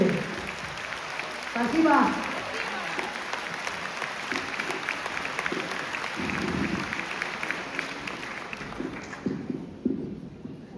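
A concert audience applauds in Baku, with sustained clapping and crowd noise under talk from the stage that fades out near the end.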